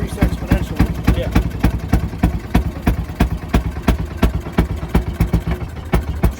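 Fairmont M19 railway speeder engine running at an antique tractor show, a loud, close, rhythmic chugging of regular firing pulses that quicken slightly as the RPMs rise, with speech mixed in.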